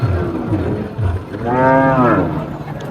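A cow lets out a long, loud, drawn-out moo close by at Satra cattle market in Niamatpur, Naogaon, with other lower animal grunts and market bustle before it.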